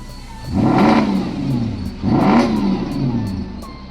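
A Porsche Cayenne S V8 engine revs twice in quick succession, each blip rising and falling sharply, loud and close, with idle rumble between the bursts.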